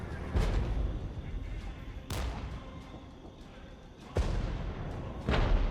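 Leopard C1 tank gun firing in the real-time tactics game Regiments: four heavy, booming cannon shots spaced a second or two apart, each a sharp crack with a rumbling tail over a low battlefield din.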